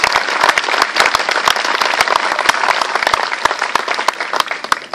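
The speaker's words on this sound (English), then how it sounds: "Let's give a hearty hand clap for these members of the NAM Knights." Hearty applause for members of the NAM Knights at a Veterans Day convention, a steady loud wash of many hands clapping close by for five seconds with sharp individual claps standing out and no voices.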